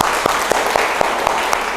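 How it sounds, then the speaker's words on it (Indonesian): Classroom applause follows a student group's presentation, a dense burst of clapping throughout with a few sharper individual claps standing out, loud and close. "Terima kasih presentasinya kelompok 1, tepuk tangan."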